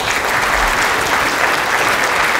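An audience at an economic forecast event claps for a speaker in a loud, dense burst of applause that lasts the whole moment.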